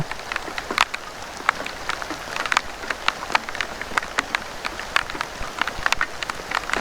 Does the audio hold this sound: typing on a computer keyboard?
no